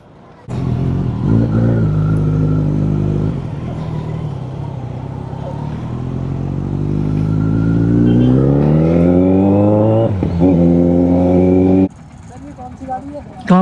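A Kawasaki Z900 motorcycle rides along a highway, its engine note rising steadily through the gears, dipping at shifts and swelling again, loud and close throughout, with a voice talking over it.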